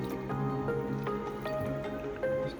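Sea moss squeezed by hand and rinsed in a bowl of water, giving soft close wet squishes and scattered drips in a quiet, steady run.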